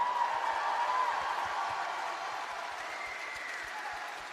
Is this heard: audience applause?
yes